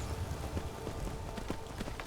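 Horse hooves clip-clop steadily in Skyrim as a rider heads back to Whiterun, a fairly quiet run of rhythmic beats over soft game ambience.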